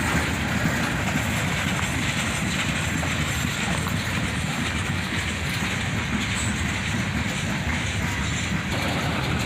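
CSX freight cars, including a battered high-top gondola, roll steadily past at close range while slowing into a rail yard, with continuous wheel rumble and faint clatter throughout.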